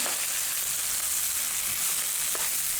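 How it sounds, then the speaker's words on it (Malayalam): Rice fries for chicken kabsa in a pressure cooker, giving a steady, even sizzle that stays loud and close from start to finish, with no voices. "ഇതൊന്ന് അരി ഒന്ന് വിട്ട് വരുന്ന വരെ ഒന്ന് നന്നായിട്ടൊന്ന് വറുത്തെടുക്കാം"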